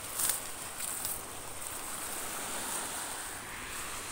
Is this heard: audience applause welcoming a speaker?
no